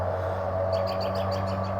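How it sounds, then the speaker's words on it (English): Several American robins sing and chirp in short repeated phrases over a steady low rumbling hum, in cold weather in Elizabethtown, Kentucky. "hear them robins, they sound so good."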